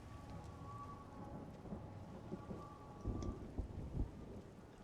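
Rain and thunder in the video game Everybody's Gone To The Rapture: a steady wash of rainfall with low rumbling thunder swelling near the end, fairly faint, with no voices.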